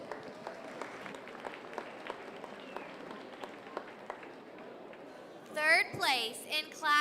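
Audience at a youth fair market hog show applauds the kids, a moderate scatter of claps with an announcer's voice over them, and a brief burst of louder, ringing sound near the end.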